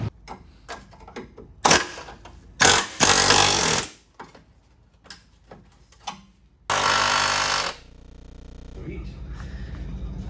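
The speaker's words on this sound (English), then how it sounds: "I'm gonna try the air hammer a couple times." Loud bursts of a pneumatic air hammer on a Jeep Cherokee XJ's lower control arm mounts, a few short rattling blasts and one longer sustained run, separated by quieter shop noise and faint voices.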